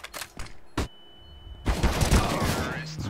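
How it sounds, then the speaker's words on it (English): Flashbang grenade detonating in a tactical shooter video game, a few sharp cracks and a high ringing tone followed by a dense rumbling burst of noise, moderately loud. "Throwing flashbang."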